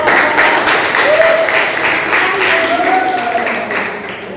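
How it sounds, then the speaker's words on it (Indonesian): A classroom audience claps in steady, dense applause close by that fades slightly toward the end, with faint voices underneath. "Oke, beri aplaus kepada"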